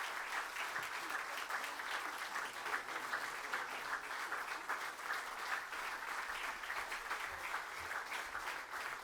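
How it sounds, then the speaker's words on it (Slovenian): An audience at a formal ceremonial session gives sustained, even applause, dense clapping continuing at a steady level for the whole stretch, somewhat distant and without speech. "Aplavz"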